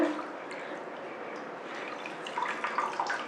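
Water wrung out of grated raw green mango wrapped in a cloth, dripping and trickling steadily into a vessel, close by with a few louder splashes toward the end and no talking.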